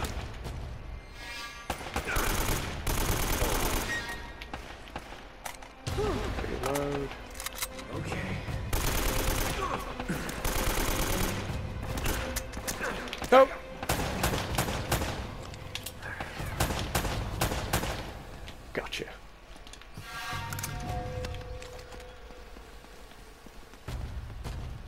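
Gunfire and bursts of automatic weapons from the video game Uncharted: Drake's Fortune rattle in repeated volleys with occasional heavier booms over about 25 seconds, with a steady game soundtrack and effects underneath.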